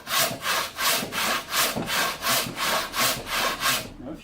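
A handsaw cuts through a wooden board in a steady rhythmic series of about eight full-length strokes. Each rasping pass swells and fades, close-up and moderately loud, with no talking.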